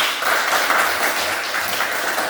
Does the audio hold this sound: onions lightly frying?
no